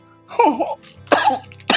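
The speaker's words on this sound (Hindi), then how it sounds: "मार दिया भाई, खांसी हो गई मेरे तो।" Three short, harsh coughs in quick succession, close and fairly loud, separated by brief pauses.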